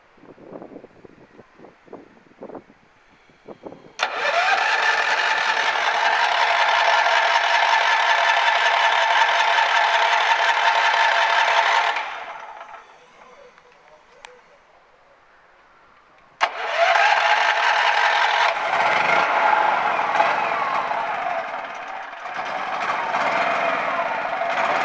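A generator modified to run on propane cranks and starts, then runs steadily and loud for several seconds, cuts back to a low idle, and roars up again as the knob is adjusted; light wind buffets the microphone.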